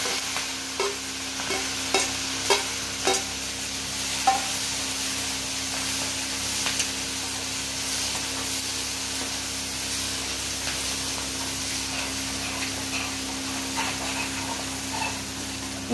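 Chili paste going into a hot tempering of mustard seeds, cumin and asafoetida sets off a steady hiss, with a few sharp pops and stirring scrapes in the first seconds, then a continuous crackling sizzle throughout.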